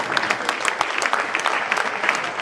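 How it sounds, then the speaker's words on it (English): Audience applause at a political communication conference, a short spell of brisk, crisp clapping from a modest crowd in a hall, close and steady. "Round of applause."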